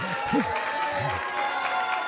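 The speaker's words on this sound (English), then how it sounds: "The crowd gives her the appreciation." A crowd applauds a female powerlifter after her failed lift at a classic women's powerlifting championship, a soft, diffuse clapping under a commentator's voice.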